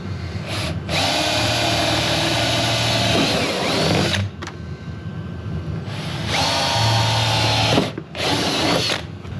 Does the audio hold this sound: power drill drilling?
yes